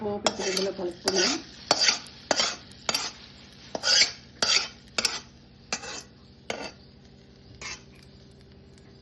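A spoon scrapes and taps in a bowl as tempering is mixed into a cucumber pickle: a dozen rhythmic stirring strokes, close and crisp, fading slightly toward the end, with no talk.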